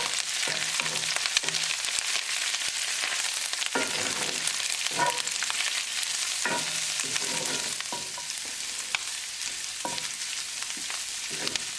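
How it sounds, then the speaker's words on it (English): Fully cooked langostino lobster tails sizzle in a pan with ginger and garlic, a constant bright frying hiss broken by repeated scraping stir strokes and utensil knocks, close and steady throughout with no voices. "now we're going to add Langostino lobster tails"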